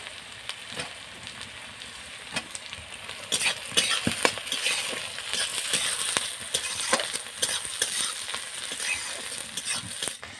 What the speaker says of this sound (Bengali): পেঁয়াজ আর কাঁচা লঙ্কা আমি ভেজে নিয়েছি